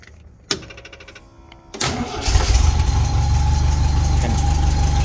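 Triumph GT6 engine cranks briefly, fires and catches, then settles into a steady, loud idle close by with no talking.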